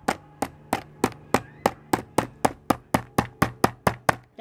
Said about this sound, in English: Hammer the nail all the way in, then take it out and flatten this down a little.